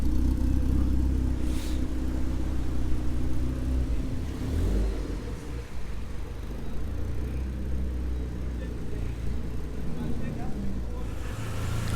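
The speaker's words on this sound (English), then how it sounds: "So it's like just under 1000 RPM. It's got a little bit of a lump to it." A rebuilt VW 1.8T engine in a Mk2 idles just under 1000 RPM with a slightly lumpy idle, giving a steady, close, low rumble with mild fluctuations.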